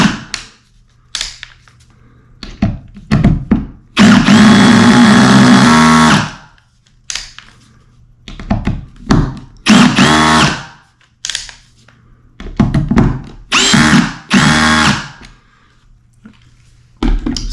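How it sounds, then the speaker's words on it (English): A power drill driving screws through wood into a floor to fix squeaks, in repeated loud whirring bursts of one to two seconds separated by quiet gaps, close up. "you can just mess with your torque setting on your drill until you get it to enough where it'll easily sink."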